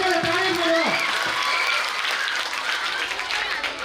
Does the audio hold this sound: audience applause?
yes